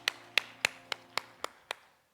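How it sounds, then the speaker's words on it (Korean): Worshippers at a Sunday church service clap in praise, seven crisp, separate claps in a quick, fairly even rhythm, close and distinct, then fading into quiet. "우리 주님께 영광의 박수 올려드립니다"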